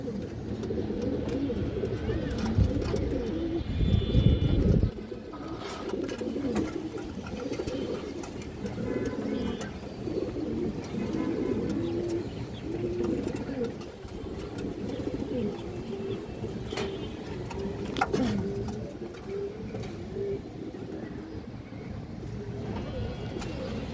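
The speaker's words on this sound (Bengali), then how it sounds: "একটা সিলভার গলা মাদি কৌতর বড় সাইজের একটা মাদি" A large silver-necked female pigeon coos in repeated soft, low rolls close by, while someone talks over it throughout.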